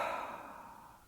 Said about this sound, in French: Vous videz par la bouche les tensions